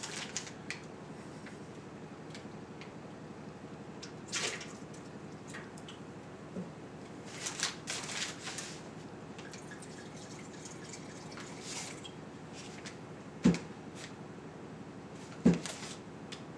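Water splashes and drips while a wine glass is rinsed during a wine tasting, a steady wet trickle at close range with a few sharp clinks and knocks against the glass and no talking.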